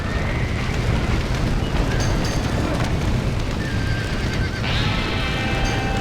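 Horse neighs ring out in Red Dead Redemption on Nintendo Switch over a loud, chaotic background of rumbling and crackling, with no one speaking.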